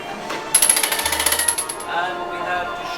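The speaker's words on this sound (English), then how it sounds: "the hammer is coming down and striking" A 150-pound lead and steel hammer coming down and striking in a high striker attraction at Universal Studios Islands of Adventure, heard as a fast train of sharp rhythmic impacts with a high ringing tone, near and fairly loud, with some background voices.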